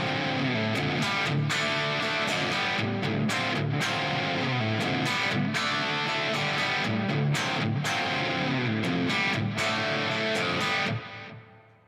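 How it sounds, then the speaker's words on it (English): An electric guitar played through a distortion effect chugs and strums loudly in thick, gritty chords with choppy rhythmic stops, ringing out and cutting off at the end. "So here's the distortion that I've been working on."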